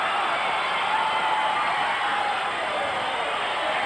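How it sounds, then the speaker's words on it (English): A wrestling crowd roars at a Portland Wrestling match: a dense, steady wash of cheering and shouting holds at an even, fairly loud level for the whole stretch, with no single voice standing out. "and listen to the crowd"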